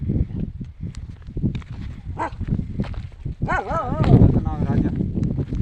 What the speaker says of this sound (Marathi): ते आहे यांचं पाळलेलं कुत्र